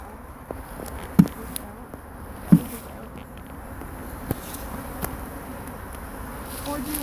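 Honeybees buzz steadily around an open beehive during a hive setup, a soft continuous drone with a few sharp knocks and clicks of handling over it, and quiet talk in the background.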